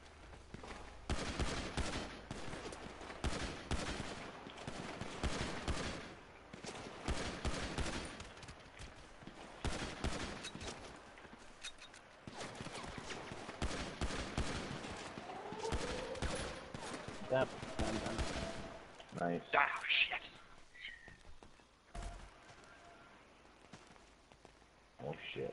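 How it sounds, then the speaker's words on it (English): Video game gunfire in a target practice match, dense bursts of rapid shots and clattering volleys running through most of the stretch, loud and close, with talk over it. "Somebody shooting at me, okay, from around the room with me."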